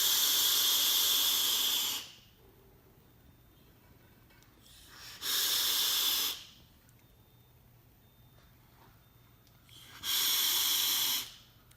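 A Geekvape Aegis Legend vape fired at 72.7 watts gives three separate loud hissing bursts, each about one to two seconds long, with quiet gaps between them and no talking.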